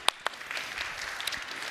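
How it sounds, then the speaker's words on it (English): Light, scattered applause from a small conference audience after a security talk demo, a few distinct claps at first then a soft continuous patter, heard from a distance. "Applause."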